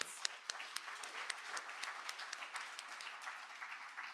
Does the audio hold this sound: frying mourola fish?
no